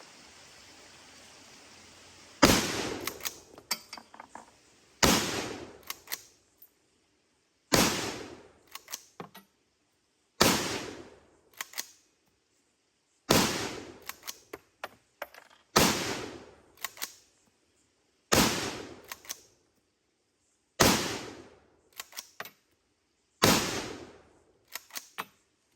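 Wedgetail MPR mod 2 pump-action .308 Winchester rifle fired repeatedly into a dirt bank outdoors, about ten loud sharp reports at a steady pace, each followed by a brief rattle of the pump action and quiet gaps between.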